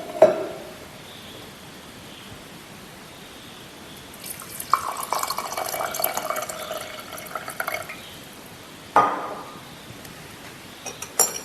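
Cold water poured for a spiced vodka cocktail, a faint splash followed by a few seconds of steady pouring into a glass, then brief splashes, quiet and close with no talk.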